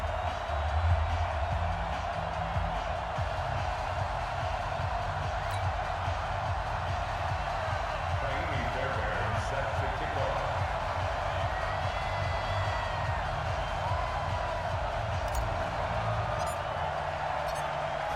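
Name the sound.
stadium crowd cheering in Madden NFL 20 video game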